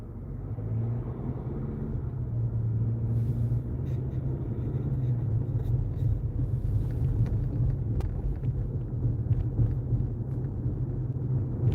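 A car driving along neighborhood streets in Minnesota, a steady low engine and road rumble heard from inside the cabin, continuous and fairly loud with faint clicks and no talk.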